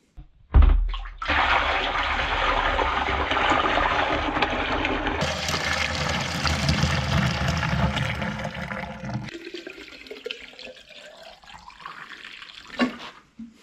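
Inside a FORTE CF-16 PRO 8 battery backpack sprayer, the mixing fan churns water in a loud, steady rushing swirl that shifts character partway through, then fades to a quieter trickle.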